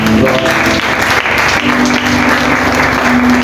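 A church congregation at a Thursday teaching service breaks into sustained applause, a dense continuous clatter of many hands with a steady crowd wash, loud and close throughout.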